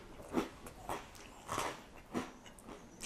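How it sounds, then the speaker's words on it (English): Close, quiet crunching as bruschetta topped with extra-hot ghost pepper tomatoes is bitten and chewed, five or so soft crisp crunches spaced about half a second apart. "Hear that crunch?"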